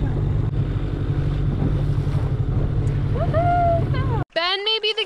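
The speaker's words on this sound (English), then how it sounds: "Engine was not up all the way, it was rubbing in the sand." A dinghy outboard engine in the Berry Islands runs toward a beach, a steady low drone under wind and waves, with people talking and laughing over it before a sudden bump cuts the sound.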